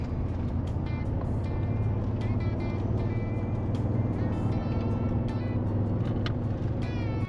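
A truck labors steadily up a very steep hill in a cool wooded valley, its engine a continuous low drone with no break across the stretch, heard alone without talk.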